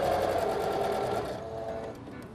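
Sewing machine stitching a seam through a zippered pouch lining, a continuous rapid mechanical whir at moderate level that eases slightly toward the end.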